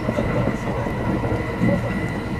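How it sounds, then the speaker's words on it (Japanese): Thunderbird limited express running through Omi-Shiotsu station on a snowy line, with a steady loud rolling rumble and hum of the train heard close and continuous, faint talk underneath. "先ほど別れた琵琶湖線とまた合流して大三塩津駅を通過です"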